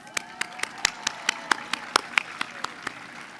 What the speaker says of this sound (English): Please join me in offering our finalists a round of applause